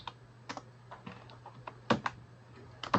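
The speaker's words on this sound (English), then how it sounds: "And again, we just type in the name" Fingers type on a computer keyboard, a sparse, irregular patter of quiet close key clicks over a faint steady hum.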